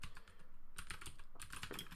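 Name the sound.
computer keyboard typing during typing practice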